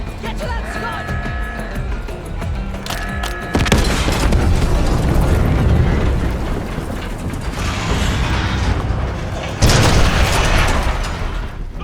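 Scud missile launch in Call of Duty Black Ops 6, a loud rumbling explosive roar with a heavy blast surge and a second burst near the end, mixed with mechanical clanks and game sound effects.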